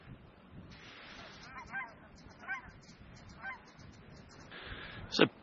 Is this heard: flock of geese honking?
yes